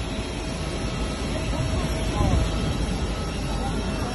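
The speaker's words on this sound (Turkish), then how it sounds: "Katar uçağına bindik" Steady low roar of a Qatar Airways airliner's engines heard from inside the cabin, a constant droning rumble with no pauses.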